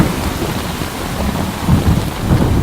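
Heavy rain pours steadily in a film scene, a loud dense wash with low rumbling thunder swelling in the second half.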